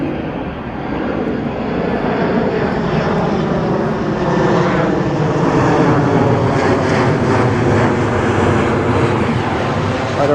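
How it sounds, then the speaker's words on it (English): An airplane passes low overhead on its approach to land near Lake Harriet in Minneapolis. Its loud, steady engine roar fills the whole stretch, swelling slightly as it goes by. "And planes are here landing."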